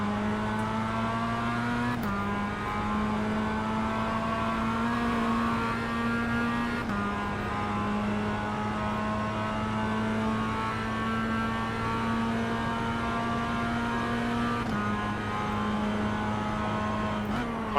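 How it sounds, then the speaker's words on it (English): A Mazda race car lapping Lime Rock Park, its engine droning loud and steady from onboard with a few sharp gear changes shifting the pitch; a faint voice appears briefly. "enjoy some more of this footage of me and the Mazda tearing up Lime Rock Park"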